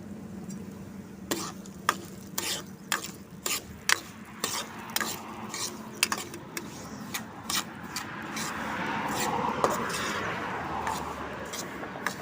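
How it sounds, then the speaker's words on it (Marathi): Rice semolina roasting in ghee in a wok and being stirred, giving repeated sharp spoon scrapes and taps over a soft sizzle. A voice talks quietly now and then. "तुपामध्ये हा तांदळाचा रवा छानपैकी भाजून घेते."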